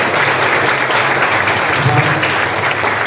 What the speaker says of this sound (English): please give them another round of applause for showing up here today